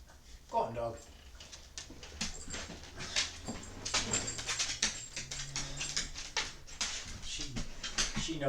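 A pet dog whimpers in repeated short, high whines at close range, mixed with pattering movement and household noise during a home workout, with a person speaking over it.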